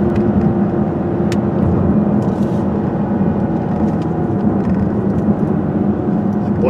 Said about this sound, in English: It sounds like a wheel bearing, possibly on the right side to me.